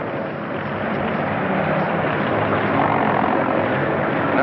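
A steady, loud airplane engine drones continuously without letting up, a dense propeller roar at an airfield where an aircrew is arriving, with no voices over it.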